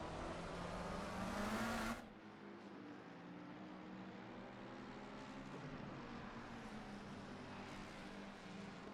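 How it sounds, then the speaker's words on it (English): A McLaren race car engine in a console racing game at Suzuka, a steady high engine drone that drops in pitch and loudness after a couple of seconds, then holds a sustained whine with no talk. "He's pushing the McLaren to its absolute limit here"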